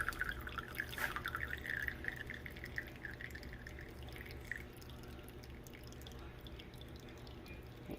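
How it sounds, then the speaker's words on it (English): Coffee streams from a French press into a cup as the plunger is pushed down, a steady soft trickle that fades toward a thin drip, quiet and close with no talking. "we're slowly just going to push it down to speed up the pouring process"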